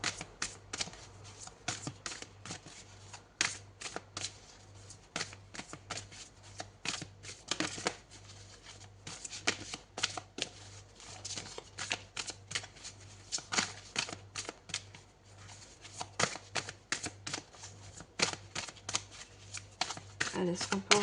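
Oracle cards being shuffled by hand in repeated crisp riffling bursts close to the microphone, with a voice speaking softly between and over the shuffles.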